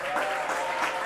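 Audience at a live show in Santiago de Chile clapping for Argentine people, a brief burst of crowded, even applause filling the room.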